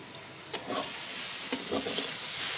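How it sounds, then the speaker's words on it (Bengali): Eggplant fries in an uncovered pan under a constant hissing sizzle, with a few sharp spatula scrapes and taps as it is stirred, heard close up without speech. "এই যে ঢাকনাটা খুলে সুন্দর মিশিয়ে নিচ্ছি। এই দেখুন বেগুনটা ভাজা ভাজা"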